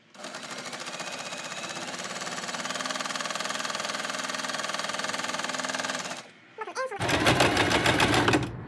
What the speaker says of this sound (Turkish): Tam buraya gelene kadar dümdüz zikzak bir dikiş atacağım